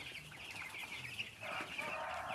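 Broiler chicks in a brooder house in Kenya keep up a steady chorus of high, overlapping peeps. The flock sounds close, and the chirping grows fuller toward the end.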